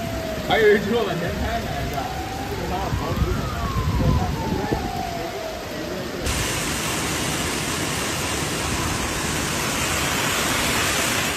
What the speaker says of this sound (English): The ditch swelled significantly, and the slope catchment water was discharged along the rural road.